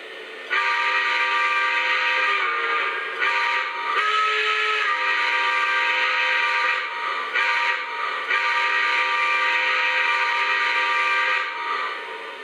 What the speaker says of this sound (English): Here's the whistle, which is actually one of my favorite whistles on a Lionel steam locomotive.